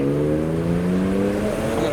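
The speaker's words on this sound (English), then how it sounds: "It's an F10 M5, providing some very loud turbo noises" A BMW F10 M5 twin-turbo engine revs hard and climbs in pitch over about two seconds, loud and fairly close, with loud turbo noises, at a car meet.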